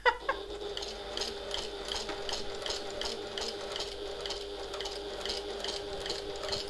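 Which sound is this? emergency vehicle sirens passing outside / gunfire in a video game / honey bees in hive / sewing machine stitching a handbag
sewing machine stitching a handbag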